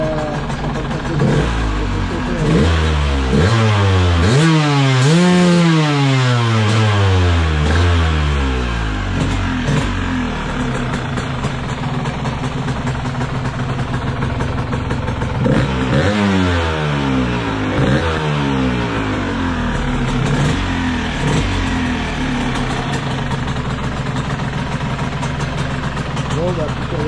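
A Yamaha DTR 125 two-stroke motorcycle engine fitted with a reworked PWK 34 carburetor bored to 35 revs hard several times, each rise and fall of pitch climbing from a ragged idle, while someone talks at points.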